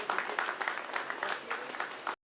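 An audience at a music video launch event gives a warm round of clapping to welcome the music director. The steady, moderately distant applause cuts off abruptly at the end.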